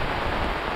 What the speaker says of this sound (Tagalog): Sobrang ulan talaga.